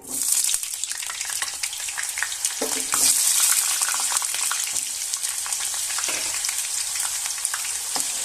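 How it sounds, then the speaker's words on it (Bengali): Cut potatoes fry in hot oil for a cauliflower dalna, giving a dense, continuous sizzle with occasional stirring scrapes, loud and close throughout. "এবার এই তেলের মধ্যে আমি যে আলুগুলো কেটে রেখেছিলাম আলুগুলো দিয়ে ভেজে নেব।"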